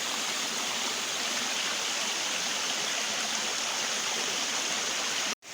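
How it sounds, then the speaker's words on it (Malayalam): A seasonal waterfall with clear water flowing down from above: a loud, dense, unbroken rush of falling and streaming water heard close, steady throughout, cut off abruptly near the end. "ഇതാണ് വെള്ളച്ചാട്ടത്തിൻ്റെ ആരംഭം. മുകളിൽ നിന്ന് ഒഴുകി വരുന്ന കേട്ടോ"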